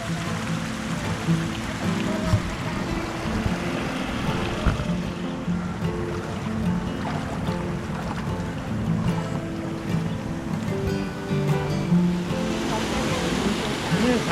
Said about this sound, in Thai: เลี้ยงแบบระบบน้ำไหลผ่าน เหมือนอยู่ในลำธารเลยครับ